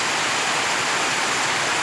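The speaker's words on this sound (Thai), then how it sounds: "เก็บภาพโอ้ยภาพฝนตก" Rainfall in the hills, a dense steady hiss of drops, loud and close, unbroken throughout with no voices.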